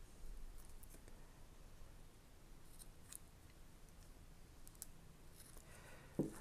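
Light snipping and crisp clicks of scissors cutting filter material for a Sony compact camera, with a sharper cut near the end, over a low steady hum in a quiet room.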